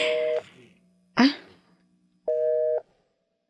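Over a phone call, a busy signal sounds in loud, evenly spaced tone pulses with silences between, alongside a brief burst of other noise.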